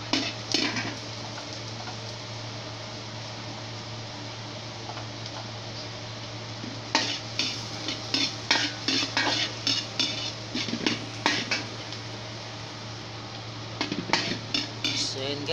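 Garlic and onion leeks frying in a pan, a steady soft sizzle with a low hum beneath, broken by bursts of metal utensil scraping and clinking as the mixture is stirred.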